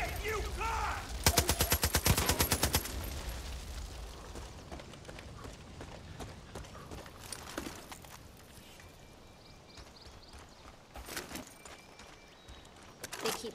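Rapid automatic gunfire from a Far Cry 5 firefight cracks out in a loud burst near the start, followed by scattered shots, thuds and rumbling game ambience, with a couple of sharper blasts toward the end.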